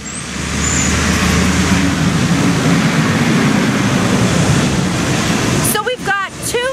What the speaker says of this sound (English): So we've got two lawnmowers, a garbage truck, and a weed eater.